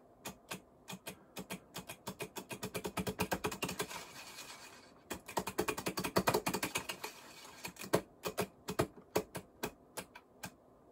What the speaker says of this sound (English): this is a dog running in a house and then sliding on the wood floor